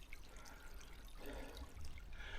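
Shallow mountain stream water running and trickling over stones near the source, a steady close watery wash with a brief fuller gurgle partway through, no voices.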